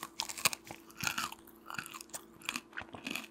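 A snack loaded with potato chips is chewed up close, giving loud crisp crunches in an uneven rhythm of bites and chews with no talking.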